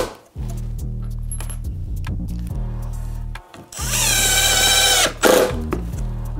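A power drill drives 2-inch screws into a wooden art crate, first with a few short buzzing bursts, then a longer loud whirring run near the end as a screw seats.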